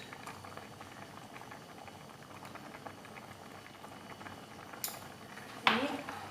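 A pot of tapioca stew made with milk and salt bubbles at a steady rolling boil, a soft continuous simmering hiss. A brief metallic clink comes near the end.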